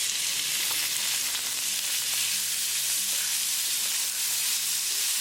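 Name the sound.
onion frying with garlic in a pan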